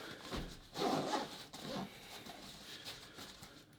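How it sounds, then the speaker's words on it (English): Outside zipper of a GoRuck packing cube being zipped closed, a close rasping rub that swells for about a second, then trails off into quieter fabric shuffling. "So let's zip up the outside zipper."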